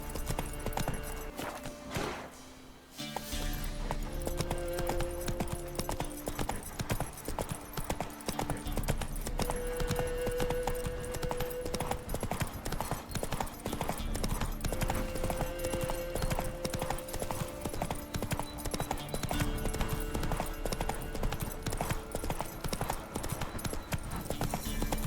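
Horse hooves clip-clop steadily in The Witcher 3, a rhythmic walking gait of close, clear hoofbeats running throughout over soft ambient game music, with a brief louder rustle near the start.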